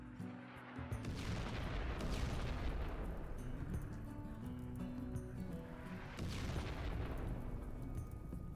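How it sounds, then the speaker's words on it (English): Assault artillery in RimWorld, a heavy, rumbling barrage of booming explosions layered over one another, two big blasts rising out of a dense continuous roar, no talking. "we're going to go ahead and blow to hell with these assault artillery"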